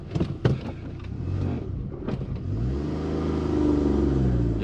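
A turbocharged Suzuki Works car pulls away on a hill start, its engine note rising into a steady, building rumble heard from inside the cabin.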